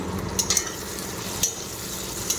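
Sliced snake gourd (chichinga) fries in a pan with a low, steady sizzle, punctuated by a few sharp metallic clicks of a spatula against the pan, close and without speech.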